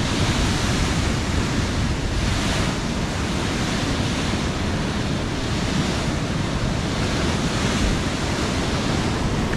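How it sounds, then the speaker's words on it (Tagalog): Heavy ocean surf roars continuously, dense and loud, with wind buffeting the microphone and no voices, as big storm waves from Typhoon Kristine hit the Dipolog Boulevard. "Oh, ang lalaki talaga ng alon."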